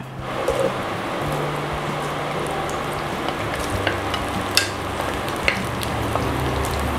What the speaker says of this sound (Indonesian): Sekarang kita mau menggoreng ikan teri.